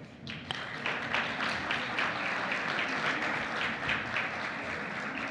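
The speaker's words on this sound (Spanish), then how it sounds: "un aplauso a los expositores" A smaller audience at a talk on a children's and adolescents' health model gives the speakers a round of applause, individual claps distinct and fairly close, steady throughout.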